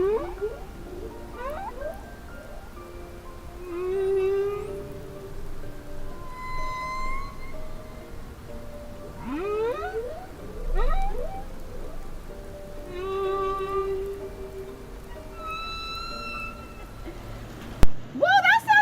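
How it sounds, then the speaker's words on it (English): Humpback whale song of rising and falling whoops, moans and chirping upsweeps, repeating in phrases over a soft hiss, with a sudden louder burst near the end. "did you know that humpback whales sing songs? What do they sound like?"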